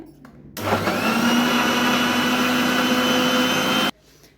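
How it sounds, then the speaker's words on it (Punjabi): A kitchen mixer churns cream into butter, whirring steadily at high speed for about three seconds, starting and stopping abruptly, loud and close with no talking. "ਇਹਨੂੰ ਹੁਣ ਨਾ ਆਪਾਂ ਮਿਕਸੀ ਦੀ ਹੈਲਪ ਦੇ ਨਾਲ ਆਪਾਂ ਰਿੜਕ ਲਾਂਗੇ"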